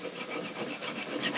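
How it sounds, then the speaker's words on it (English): A chainsaw file rasps steadily against a metal part of a Woodland Mills TFG55 PTO wood chipper, a close, continuous scraping with rhythmic strokes and no talking. "I got one of my chainsaw files. I'm just going to see if I can shave it down just a little bit."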